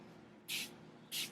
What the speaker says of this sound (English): you start by spraying the section of hair